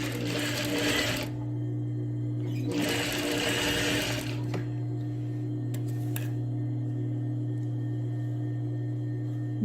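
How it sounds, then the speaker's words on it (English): An industrial single-needle sewing machine runs a long straight seam for a dress, with two loud bursts of stitching separated by a pause over a steady motor hum. "you can sew one long seam here"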